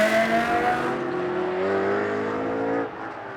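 A GT race car in Blancpain Sprint Series free practice at Moscow roars loudly past on track, its engine note sliding downward as it moves away before cutting to a quieter drone.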